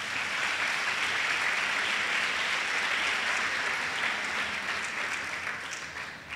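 A school graduation audience applauds for the students: steady, dense clapping from a large crowd, loud and continuous before tapering slightly at the close.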